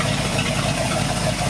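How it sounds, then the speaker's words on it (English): A Corvette 327F V8 on a test stand runs with a loud, steady, close-up rumble and rapid firing pulses throughout, with no one talking. "We're testing Gene Porter's Corvette engine that is destined to go into True North's build."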